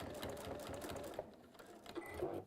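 A home sewing machine stitching at a steady pace with a fine, rapid mechanical patter, fairly close, continuing through the clip with brief lulls.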